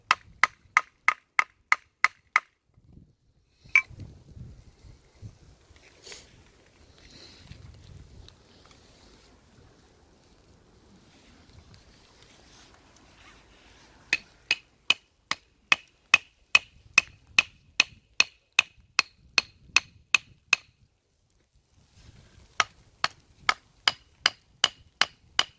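A stick tang Mora Classic knife is struck repeatedly while batoning a large log, giving bursts of sharp, evenly spaced wooden knocks with quiet shuffling pauses between the runs.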